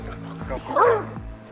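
A dog barks and yips once or twice up close, loud and brief, with people talking around it.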